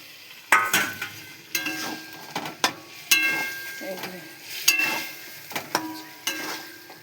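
Egg going into a frying pan for egg curry, heard as a series of sharp clinks and scrapes of a utensil against the pan, spaced irregularly and fairly close.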